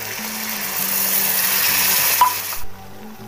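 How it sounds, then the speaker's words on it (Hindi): Tomato puree sizzles loudly in frying chhola masala, a steady broadband hiss filling the clip with a few faint clinks, then cutting to quieter hiss near the end. "तो फिर इसमें टमाटर की प्यूरी भी डालेंगे।"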